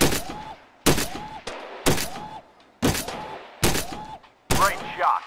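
Pistol shots in the VR shooting game Gun Club VR: six sharp, loud reports fired one by one at roughly one-second intervals, each followed by a short ringing tail, with a metallic clank near the end.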